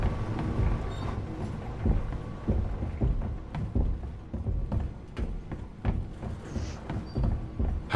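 Heavy, plodding footsteps of Mr. X in Resident Evil 2 Remake echo through a dark game environment as a steady stream of dull thuds over a low ambient rumble, continuing for several seconds.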